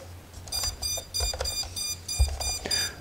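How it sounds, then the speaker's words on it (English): An FPV drone's beeper sounds repeated high-pitched electronic beeps in short bursts, fairly loud and close, over a low background hum. "And that's the beeper. It knows that it don't have it hooked up."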